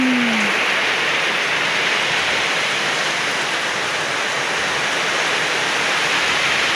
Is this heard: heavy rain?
yes